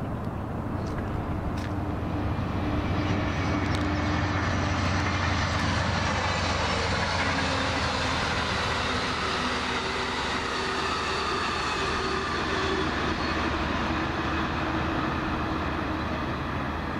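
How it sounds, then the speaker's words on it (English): Warm Springs train detouring over the line in Yolo County, a long steady rumbling roar of rolling cars and engine close by, loud and unbroken for the whole stretch. "I think this might be the Warm Springs train detouring over the Calpee."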